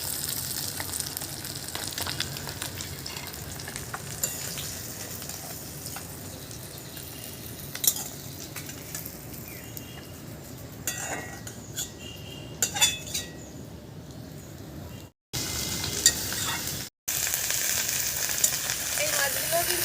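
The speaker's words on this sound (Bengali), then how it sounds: "মশলা মাছগুলো কিন্তু ভাজা হয়ে গেছে দেখুন" Spiced fish fries in hot oil in a pan, giving a steady close sizzle with occasional clinks of a utensil and a few brief gaps.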